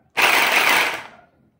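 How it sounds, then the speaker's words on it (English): An Oxford rotary hammer drill runs in a single loud, dense burst of about a second, rattling and mechanical, then cuts off and winds down quickly, alone with no voices. "So that's the sound of this rotary hammer."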